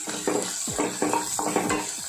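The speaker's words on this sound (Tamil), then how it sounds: "ஸோ கருவேப்பிலை பச்சை மிளகா போட்டு நல்லா வதக்கிடுங்க." Curry leaves, green chillies and onions sauté in a hot pan under a steady sizzle, with a utensil scraping and tapping the pan in a regular rhythm of about four strokes, close and clear.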